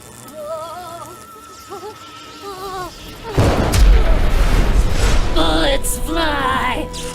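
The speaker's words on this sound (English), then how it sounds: "Bullets fly, guns blaze, witnesses see through the haze." Gunfire and heavy blasts from an action movie shootout burst in loudly after a calmer opening with a whinnying horse, a dense, booming barrage with sharp cracks layered over rumbling impacts and further horse cries.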